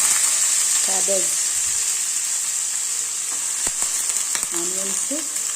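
Onions and garlic frying in oil for vegetable fried rice, a steady close sizzle throughout with brief stirring clinks and scrapes, no talking.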